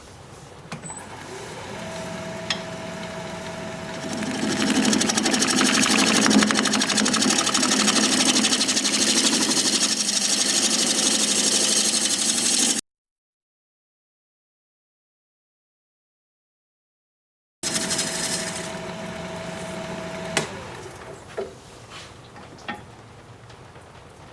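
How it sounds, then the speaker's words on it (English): A wood lathe spinning at 750 RPM as a 5/8 inch bowl gouge cuts a healed-over branch section, a steady loud motor whine with hissing cutting noise, a gap of silence, then the lathe running again. "We're going to be turning at 750 RPM, 5/8 inch bowl gouge, mask and face shield on."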